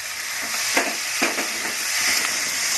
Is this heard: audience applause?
no